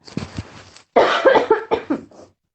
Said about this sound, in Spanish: me ahogué con una tos ahorita